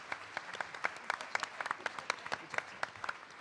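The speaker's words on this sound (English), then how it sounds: "please join me in giving our panel a round of applause for their effort today" An audience at a concluding panel discussion on workforce housing claps together for the panel, a fairly quiet, scattered patter of hand claps that continues steadily throughout.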